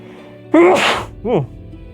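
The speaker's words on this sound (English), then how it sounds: "And I have to sneeze." A sharp, close sneeze bursts out after a quick inhaled buildup, followed by a brief voiced sound.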